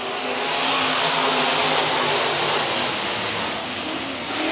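Modified race cars roar around Worthington Speedway as a dense pack, engines blaring loud and steady at close range with a broad, continuous rumble and no gaps.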